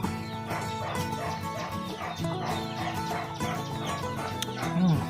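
Chickens cluck steadily and busily at a rural farm house in Pak Phanang, Thailand, where buffalo are milked, a continuous nearby chorus of overlapping clucks and calls.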